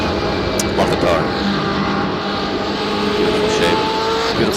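BMW M8 race car engine in the iRacing video game drones and revs steadily through a race, with pitch shifts as it changes gear, while someone talks over it.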